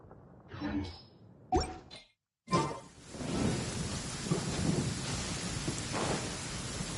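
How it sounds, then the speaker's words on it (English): A thunderstorm in the Genshin Impact video game: thunder cracks and rumbles, followed by steady heavy rain falling on surfaces, with speech heard briefly at the start. "Uh-oh! Lightning storm! Just our luck."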